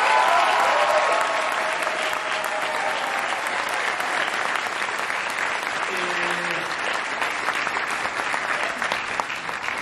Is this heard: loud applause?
yes